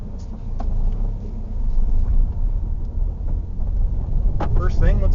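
A Volkswagen GTI drives along with a steady, close interior road rumble and engine drone, while a person talks over it near the end.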